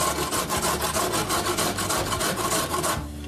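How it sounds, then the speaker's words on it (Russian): White cabbage is grated by hand on a grater, making rapid, regular rasping strokes, about five per second. The scraping is loud and close, with no talk, and it stops just before the end. "я решила натереть на терке"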